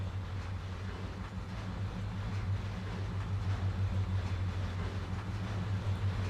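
Passenger train passing in the Trainz 2022 railway simulator, a steady low rumble of rolling wagons with faint clickety-clack, continuous and fairly close, with no talking.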